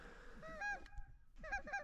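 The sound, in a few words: geese honking during goose hunt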